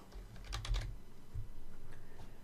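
Keystrokes on a computer keyboard typing a short search into the Windows Start menu, a quick cluster of close, crisp clicks followed by one more tap, with no speech.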